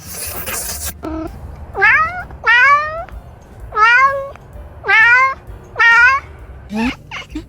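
Kittens meow repeatedly and clearly, about six high, wavering cries spaced a second or so apart, close and loud, after a short burst of noise.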